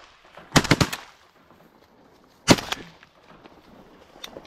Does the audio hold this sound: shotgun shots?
yes